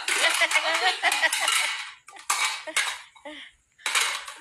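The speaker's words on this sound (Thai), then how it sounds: "ล้างถ้วย ไม่ใช่ล้างมือ ล้างถ้วยแล้วน้องคอย" Bowls and dishes being washed by hand, with bursts of clattering crockery and rinsing splashes that come and go in close, busy runs, broken by brief pauses.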